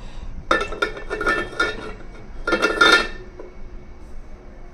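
A pot is stirred and then covered with its lid, bringing two bursts of metallic clinks and scraping about two seconds apart, followed by a faint lighter tap, over a quiet background with no talking.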